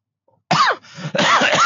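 A person gives a short burst of dry coughs, two or three harsh close coughs after a moment of silence, loud and with no talking.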